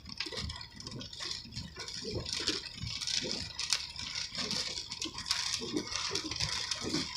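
Ocean waves wash onto a beach on a rainy day, a soft, continuous hissing surf heard from a distance, fairly faint and without talk.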